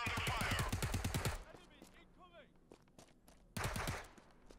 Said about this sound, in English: Under heavy enemy fire. We're under fire.